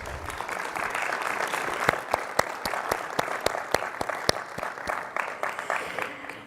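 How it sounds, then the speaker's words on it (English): Applause for the judges at a World Tourism Day 2023 celebration, a moderate crowd clapping with distinct individual claps standing out over a steady patter, mid-distance and fairly even. "If we can please give a round of applause to our judges."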